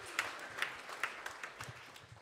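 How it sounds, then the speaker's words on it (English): Audience at a school summer jazz concert claps in a soft, scattered round of applause, fairly distant and quiet, with uneven individual claps and no one speaking over it. "Give a round of applause."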